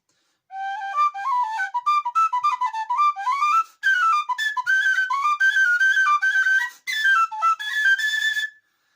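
A Clare tin whistle plays a quick run of bright, airy melodic notes, close and fairly loud, in three phrases separated by brief pauses, with no voices.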